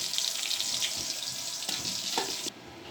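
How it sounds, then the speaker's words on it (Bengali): Rui fish frying in a pan gives a steady, fairly quiet hiss and sizzle with a few soft pops, then drops away abruptly near the end. "মাছগুলো ভাজা হয়ে যাচ্ছে"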